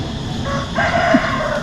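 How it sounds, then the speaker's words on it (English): A rooster crows once at middle distance in Chiang Rai, Thailand, its drawn-out call rising over steady outdoor background noise. "Oh, and there's a rooster too."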